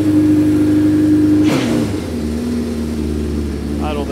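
A vintage Honda CB550 motorcycle engine idles with a low, even rumble, loud and close, briefly shifting pitch midway before settling back into a lower idle.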